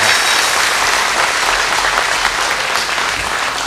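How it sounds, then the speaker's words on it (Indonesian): Loud, lively applause from a studio audience at TVRI Pusat in Jakarta, dense continuous clapping that fills the room for the whole stretch without talk. "Kita beri tepuk tangan yang meriah"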